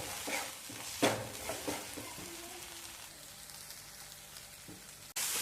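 Spice paste for Marathi radish chutney is sautéed in a pan, giving a soft, fairly quiet sizzle with a few stirring scrapes early on, then a sudden louder burst near the end, no voices.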